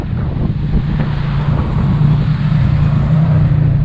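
Open tuk-tuk ride through Bangkok, Thailand: steady rumbling engine drone with heavy wind buffeting across the microphone, loud and continuous throughout with no speech.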